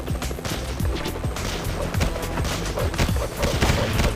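A rifle turret in Gang Nations fires rapid, repeated gunshots in irregular bursts, loud and close over a busy battle din with dull thumps mixed in.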